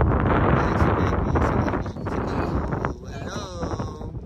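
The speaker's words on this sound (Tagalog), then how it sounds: "Kasi sobrang lakas ng hangin dito." Strong wind at Pantabangan Lake, Nueva Ecija, roars and buffets the microphone steadily throughout, a loud continuous rush with a voice faintly underneath.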